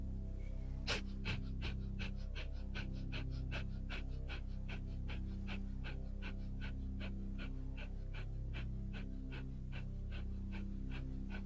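Rapid, rhythmic panting breaths of a yoga breathing exercise repeat at an even, quick pace throughout, close and steady with no talking.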